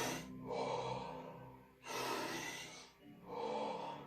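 Deep, forceful breaths in a breathing routine practised by an archer, three long noisy inhales and exhales in a slow cycle, close and alone with no talking.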